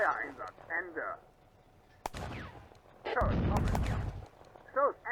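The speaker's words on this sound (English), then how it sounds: "The Granatwerfer has 24 rounds remaining and opens another fire mission on the 45mm anti-tank gun." A German Granatwerfer mortar firing in a WWII Eastern Front war video game, with a sharp crack followed by a longer, loud rumbling burst. Short spoken voice lines come before and after the shots.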